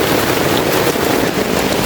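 Heavy rain in a tropical rainforest near a border, a loud dense hiss of falling water continuous for the whole moment with no talk.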